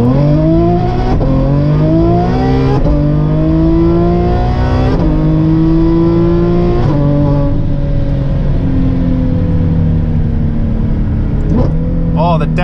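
A Ferrari F12 engine revs hard through a series of paddle downshifts, its harmonic pitch repeatedly climbing and dropping in rapid blips, loud and close for the whole stretch.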